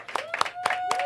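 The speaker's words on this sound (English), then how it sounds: "So please give a round of applause to the Queen Mother." Applause and clapping from an audience at a Black History Month celebration event for the Queen Mother, a short burst of hand claps over a tonal background.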